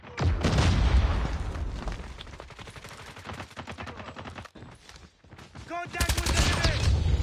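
Rapid automatic CR-56 AMAX rifle fire in COD Mobile, dense bursts of loud shots with brief pauses and a sharp volley at the end, mixed with game effects and someone talking over it.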